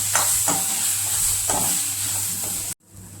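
Tomato chutney sizzling in a pan as cumin powder is stirred in, a constant close frying hiss with a few rhythmic spoon scrapes, cutting off abruptly near the end.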